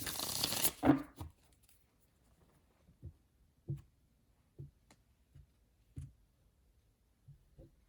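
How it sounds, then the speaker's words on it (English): Tarot cards are riffled in a short, rustling burst, then a series of soft, evenly spaced taps follows in an otherwise quiet room. "let's give it one more good shuffle"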